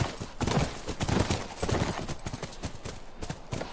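Horse hooves clip-clop steadily near a ranch in a video game, a quick uneven patter of impacts running throughout at moderate distance.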